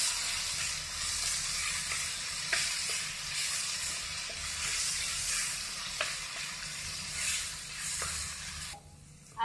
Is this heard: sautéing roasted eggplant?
yes